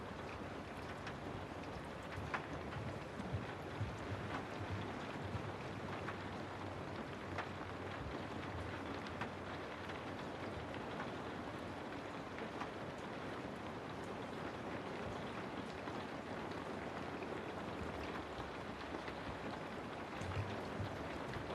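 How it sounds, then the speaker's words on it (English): Rain falling on the window of an old bookshop at night, a steady dense patter and hiss that stays even and unbroken throughout, with no voices. "The only sound left is the rain and the occasional soft settling of the old building."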